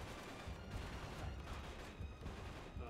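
Rapid gunfire in the video game Uncharted 3, a dense burst of repeated shots crackling loudly and close for the whole stretch, with no talk over it.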